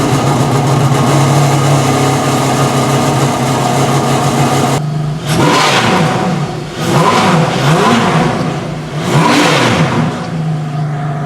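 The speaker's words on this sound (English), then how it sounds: "we should probably fire up the gorgeous V12 and hear that symphony" A Ferrari Enzo's V12 idles loudly with a steady hum, then revs hard in three or four rising and falling blips, close and alone with no voices.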